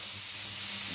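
Wagyu beef sizzles on a hot pan in Japan, a dense, continuous, close hiss of frying fat with no pauses.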